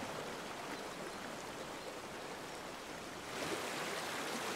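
The River Irvine flowing through a remote, tucked-away spot, a soft continuous babble of running water that swells slightly louder toward the end, with no voices.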